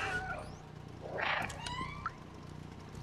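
A cat meows in the PS5 video game Stray, a couple of clear, close meows over a low ambient game background with soft electronic tones.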